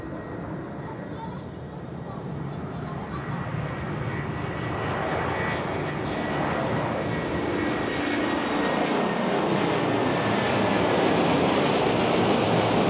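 A United airliner takes off at Zurich Airport on a foggy morning, its jet roar broad and steady, swelling gradually louder as the aircraft accelerates down the runway.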